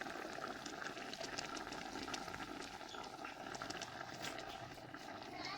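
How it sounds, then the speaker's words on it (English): Water at a rolling boil in a cooking pot with fish, crayfish, Maggi and salt for Nigerian okra soup, a steady close bubbling hiss that runs unbroken through the whole stretch. "So the water is already boiling"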